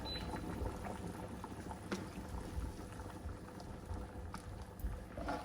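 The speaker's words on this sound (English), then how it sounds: "Rice boiling over." A pot of rice bubbles and sputters quietly, with soft gurgling and occasional faint pops from the water boiling over.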